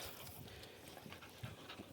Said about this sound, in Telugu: కర్ణాటక కుక్క పిల్ల ఇది